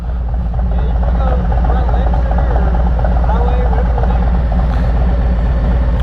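A BMW's engine runs as it drives off, giving a loud, close, continuous rumbling drone with a voice faintly over it.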